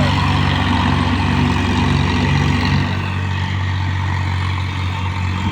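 A JCB excavator engine runs loud and close while pulling a tractor stuck in a muddy field during ploughing. The heavy, low diesel drone stays steady, shifting to a deeper, rougher rumble partway through.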